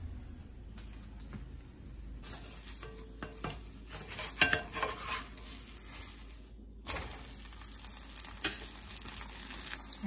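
Boli fries in ghee on a pan over medium flame, a quiet continuous sizzle broken by scattered clinks and scrapes of a utensil against the pan.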